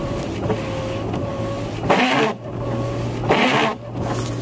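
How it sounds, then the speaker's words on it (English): Car windshield wipers running during a blizzard, two strong swipes about a second and a half apart over a steady engine hum inside the vehicle, close and fairly loud. "My windshield wipers."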